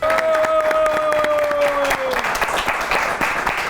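Studio audience of a comedy talk show breaks into applause, loud, dense clapping and some cheering building across the clip, with a sustained sung or spoken tone over the first half.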